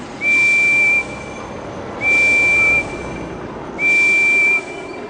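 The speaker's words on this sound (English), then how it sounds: "My whistle is different from all the others." Henry's steam engine whistle from the Thomas & Friends video game sounds three times, each a clear, loud, steady high tone lasting about a second, evenly spaced with short gaps and no talking.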